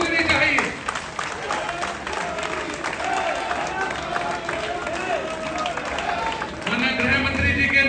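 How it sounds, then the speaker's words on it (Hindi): Crowd at a political rally in Meerut, standing to welcome Home Minister Amit Shah, breaks into sustained applause and cheering that carries steadily for several seconds, swelling again near the end, with voices mixed into the noise. "तालियों की गड़गड़ाहट गूंजनी चाहिए।"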